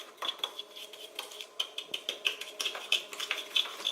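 Spoon scraping and clinking quickly against a bowl while white sugar face scrub is mixed, a gritty, rhythmic series of small taps and scratches, close and fairly quiet.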